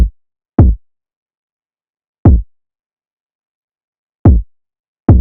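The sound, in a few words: bassy kick drum beat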